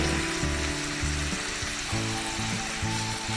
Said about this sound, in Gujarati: થોડુંક પાણી નાખીશું જેથી મસાલા બળી ના જાય.